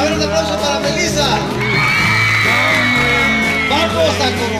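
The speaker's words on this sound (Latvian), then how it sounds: "A ver, un aplauso para Melissa." A crowd at a secondary school coronation cheers and whoops for Melissa, loud and continuous over booming music with a steady beat, with voices shouting throughout.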